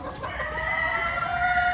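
Laying hens on a Philippine egg farm cluck and call, with a drawn-out crowing-like note rising above the flock, fairly close and continuous, with no talk.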